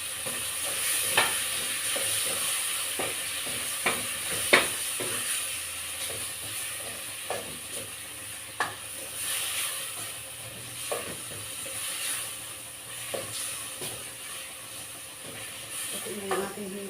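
Sautéed mung bean stew with shrimp being stirred in a pot: soft sizzling and hiss with repeated spoon clinks and scrapes at irregular intervals, close and fairly quiet.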